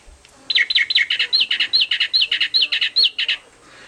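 Toy bird giving a rapid series of about a dozen bright, sharp chirps in steady rhythm, close and clear over a quiet room background.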